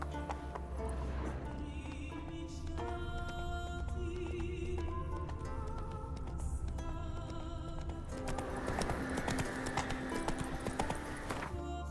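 Horse hooves galloping in the video game The Witcher 3: Wild Hunt Next-Gen, a steady rhythmic clip-clop running throughout over game music and ambience, with no talk.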